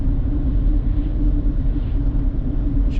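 Steady low road rumble fills the interior of a moving car, an even droning hum that holds constant with no talking.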